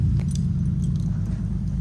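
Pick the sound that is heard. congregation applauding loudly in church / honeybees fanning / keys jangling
keys jangling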